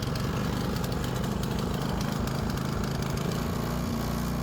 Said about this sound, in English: we have a running engine again